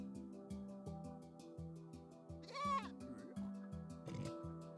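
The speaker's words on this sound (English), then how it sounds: "For a second I thought the panda made a goat noise" A panda in a video game gives a goat-like bleat, a short quavering call rising over a looping, steady synthesized game background with repeated musical tones.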